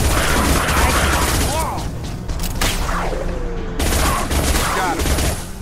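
Shotgun blasts boom in the video game Mass Effect 2 during a firefight, several heavy shots spaced irregularly among mechanical clatter and game effects, with brief voice lines in between.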